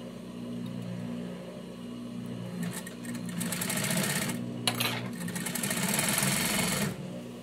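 A coverstitch sewing machine (galoneira) runs steadily while sewing binding onto a T-shirt, with a close mechanical hum and a faster rattling burst as the stitching speeds up midway.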